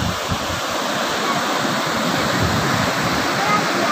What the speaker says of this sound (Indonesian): lihat keadaan ombak di sini tuh cukup besar